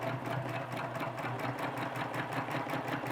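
Sewing machine running steadily as it stitches a spiral line, a fast, even mechanical whirr heard up close and alone.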